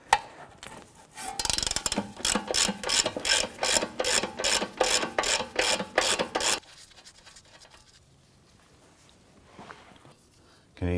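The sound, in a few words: ratchet with 17mm socket removing a nut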